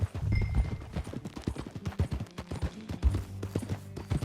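Quick, rhythmic hoofbeats of a horse clop along at a brisk trot in the video game Red Dead Redemption 2, close and clear, with a low rumble underneath.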